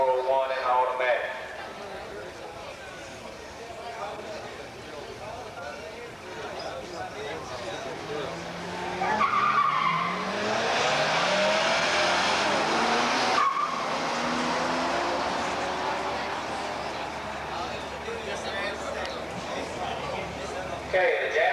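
A big Mustang and a 1971 AMC Javelin with a 401 and automatic launch side by side on a drag strip at a 1985 muscle car showdown, engines rising into a loud roar mid-run with tire noise, under an announcer's commentary throughout.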